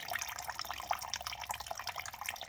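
Water that had collected in the fuel tank of a Simplicity lawn tractor drains out in a steady trickle, with quiet irregular drips and splashes landing in a container nearby.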